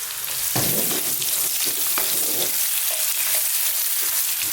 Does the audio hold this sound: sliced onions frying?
yes